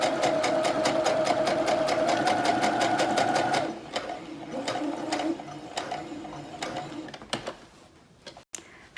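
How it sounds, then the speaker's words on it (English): A sewing machine stitching binding onto a quilt runs with a fast, even mechanical ticking for several seconds, then slows into scattered clicks and taps as the fabric is handled. "I'm just holding the fabric down and guiding my machine."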